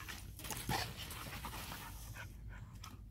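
Puppies pant rapidly while playing together, the quick rhythmic breathing close and continuous with a brief whimper, no voices over it.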